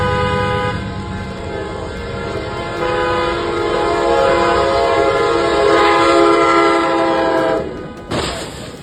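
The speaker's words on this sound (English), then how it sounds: "She had just stepped off the Ermelo railway track when the train sped past" A train speeds past close by on a railway track near Ermelo, a loud continuous rush of engine and wheel noise with a horn-like tone throughout, cutting off sharply near the end.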